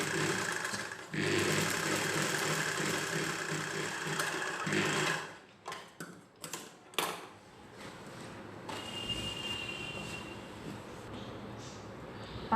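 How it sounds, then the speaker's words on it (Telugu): A sewing machine runs steadily while stitching a six-panel saree petticoat, a dense close whirring that stops and restarts in short bursts around the middle before running on again, with no talk. "దీని పై వైపున ఇంకొక కుట్టు వేసుకోవాలి."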